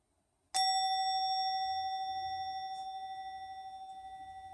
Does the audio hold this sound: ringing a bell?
yes